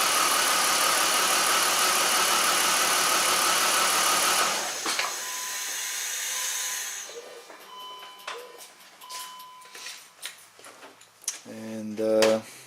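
A 2006 BMW X5 with a random misfire runs steadily with a broad engine hum, then cuts off about halfway through, leaving quiet clicks, small knocks and a brief electronic tone near the end.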